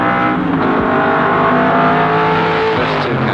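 Production touring cars at Warwick Farm in 1973 roar past on a wet track, a loud steady engine drone with passing swells and spray hiss, no talk over it.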